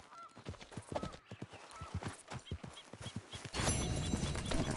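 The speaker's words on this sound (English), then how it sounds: "You're a good filly." Horse hooves clip-clopping in the video game Red Dead Redemption 2, a close, uneven rhythm of hoof strikes, with an odd honking call partway through and a rise of louder ambient noise at the end.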